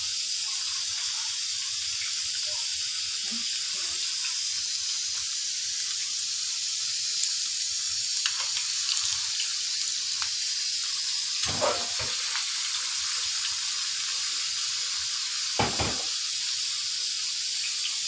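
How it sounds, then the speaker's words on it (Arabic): Kofta frying in hot oil in a pan, a steady close hiss of sizzling that runs throughout, broken by a few sharp clinks and scrapes partway through. "هنحط الكفته بتاعتنا اهي، نرصها جنب بعضها اهي."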